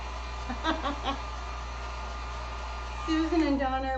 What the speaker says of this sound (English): Throwing the heat gun on.